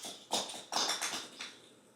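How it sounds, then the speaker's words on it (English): Christmas ornaments knocked down by a pet land as three or four quick, faint tapping knocks spread over a couple of seconds, with quiet room tone between them. "he just knocked down like 6 ornaments"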